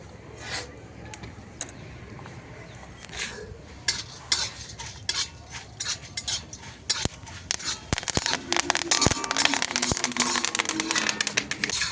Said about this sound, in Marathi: आता याच तेलामध्ये अजून थोडंसं तेल टाकून हे बाकीचे मसाले भाजून घ्यायचे